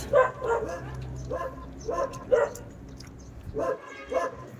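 A dog barks in several short bursts, some spaced evenly and others close together, at moderate volume over a steady background hum.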